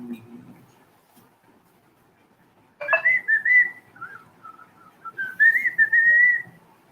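A person whistles in two short bursts of wavering, fairly loud tones, with a quiet background during a live football watchalong.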